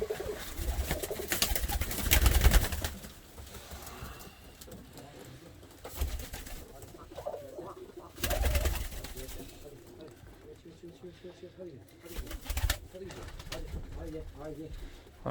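Volsky pigeons cooing close by in a coop in repeated low, throaty calls, with people talking intermittently over them.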